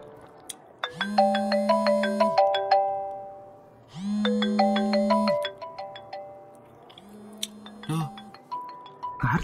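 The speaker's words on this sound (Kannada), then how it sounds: "ಕಾರ್ತಿಕ್ನ ಆಗಿಂದ ರಿಂಗ್ ಆಗ್ತಿದ್ಯೋ?" A mobile phone ringtone plays a bright, chiming melodic phrase that repeats in loud bursts with short gaps between them, under a steady low tone.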